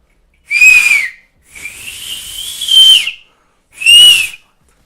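Three loud, shrill whistles: a short blast, a longer sustained one, then another short one, with pauses between.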